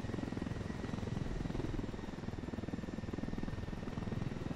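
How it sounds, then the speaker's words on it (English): A supply helicopter in the video game Ghost Recon Wildlands, with a loud, steady rotor thrum and a rhythmic chopping beat that continues unbroken throughout. "It's just a supply chopper."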